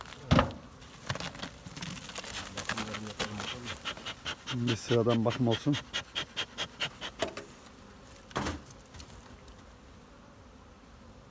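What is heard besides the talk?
honeybees buzzing at hives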